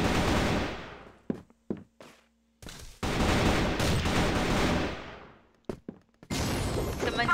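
Gunfire from the Crossfire shooter game comes in loud bursts of rapid automatic fire, broken by short gaps and a few single shots. It is heard close and mostly alone.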